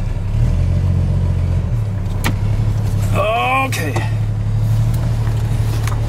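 A Jeep MJ truck engine rumbles steadily while the vehicle drives in four-wheel drive with the choke still on. The low chugging drone is loud and close throughout, with a brief squeal partway and a person speaking briefly.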